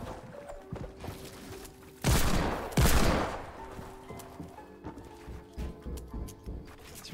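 A Deagle pistol fires in Fortnite: two loud, sharp shots about a second apart ring out over light, scattered game clatter and mechanical clicks.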